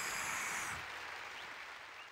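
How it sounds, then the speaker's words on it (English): Crowd applause in a video game, a steady wash of clapping that starts fuller and thins slightly, with a faint sparkly electronic tone over it. "So please, a big round of applause for them."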